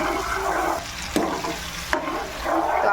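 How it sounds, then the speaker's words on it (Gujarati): Chutney paste for Kathiyawadi bhungra bataka sizzling in hot oil, a loud close hiss and splutter with stirring scrapes and two sharp clacks midway, no voices. "આપણું તેલ ગરમ થઈ ગયું છે। હવે આપણે એમાં આ ચટણીનું પેસ્ટ ઉમેરશું।"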